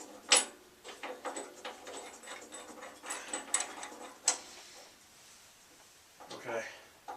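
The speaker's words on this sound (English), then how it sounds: "Just tighten this down." Near clicks and ratcheting ticks come from a bolt being tightened on a bandsaw height extension, irregular and fairly quiet, with a person talking over the work.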